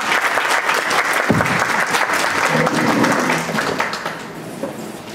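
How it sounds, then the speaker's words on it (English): A room full of people at a Richmond Crusade for Voters event gives the candidates another loud round of clapping, sustained and then tapering off toward the end. "Let's give our candidates another round of applause,"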